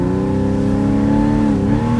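A 2014 Porsche Carrera S Cabriolet launches and accelerates hard, its engine roaring loud and close in a rising, sustained rev heard from inside the car, with no talk.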